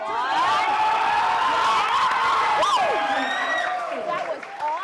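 A cheer squad yelling and whooping for a powerlifter during a squat at a powerlifting meet, loud sustained crowd shouting with rising whoops and applause.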